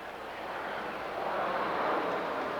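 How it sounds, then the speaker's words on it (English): Airplanes taking off over Shea Stadium during a 1989 Mets baseball game, heard as a steady distant jet roar that swells slightly, blended with wide open-air ambience and no clear talking. "you hear these planes taking off over the stadium"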